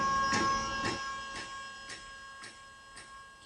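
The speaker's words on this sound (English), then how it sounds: "Turn on the ignition. Make sure the vacuum pump comes on." Electric vacuum pump in a Tesla-swapped Mercedes W123 300CD, heard as a series of regular pulsing clicks or thumps about every half second that grow fainter and more spaced out, over a steady high whine.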